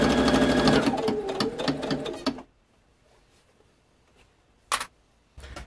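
Sewing machine top stitching a robe for a Return of the Jedi Royal Guard costume, running in a steady close rapid stitching whir for about two seconds, then stopping, followed by quiet handling and a brief click.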